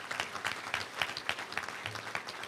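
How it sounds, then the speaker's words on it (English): A room of guests at a Little Rock Touchdown Club luncheon applauds their university president and athletic director, with dense, fairly close clapping lasting a few seconds and no talk over it. "Let's give them a round of applause for being here."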